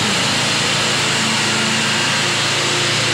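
A Honda XR150 motorcycle engine, recovering from a stuck piston with oil added through the spark plug hole, runs with a loud, steady, buzzy idle close by, without voices.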